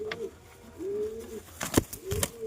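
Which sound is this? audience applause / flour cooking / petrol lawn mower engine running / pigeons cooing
pigeons cooing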